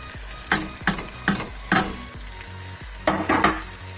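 Onion and spices frying in oil in a pan for a mixed vegetable curry of potato, peas and carrot, a steady close sizzle broken by repeated scraping stirs, with no talking.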